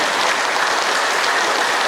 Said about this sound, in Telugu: చిరునవ్వుతోని మీ అరచేతులు చూసుకొని గట్టిగా చప్పట్లు కొట్టండి